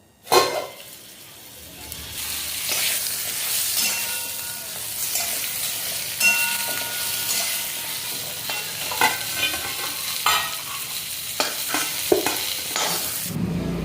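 Stuffed brinjals sautéing in oil in a pan, a continuous loud sizzle and fry with repeated stirring scrapes and clinks, no talking.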